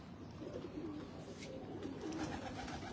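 Pigeons coo repeatedly at close range, soft low murmuring calls rising and falling over a steady background hum with no talking.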